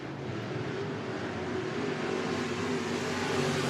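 Race cars in a Bakersfield Speedway heat race roar steadily around the track, a continuous, fairly distant engine drone that swells slightly as the pack passes through the turns, with no voices over it.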